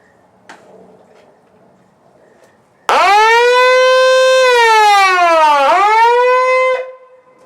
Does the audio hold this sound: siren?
yes